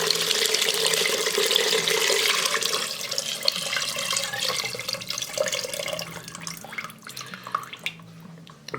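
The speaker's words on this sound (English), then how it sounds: "And then we will add our stock that we did in the Instant Pot" Beef stock poured from a container into onion soup in an Instant Pot, a close, steady gushing pour that tapers into trickles and drips over its final seconds.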